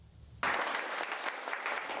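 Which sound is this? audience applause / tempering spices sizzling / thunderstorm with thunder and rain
audience applause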